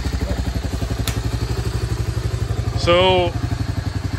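A Honda XR650L-powered trike engine idles with a steady, loud, pulsing thump up close, with a brief clatter, a voice speaking briefly over it and a short whistle-like squeal near the end.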